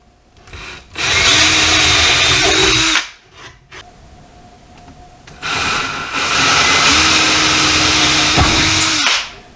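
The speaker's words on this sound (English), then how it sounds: "And drill out the third mark." Power drill boring holes into wood, two long loud bursts of whirring bit grinding through the board, separated by a short pause with faint handling noise.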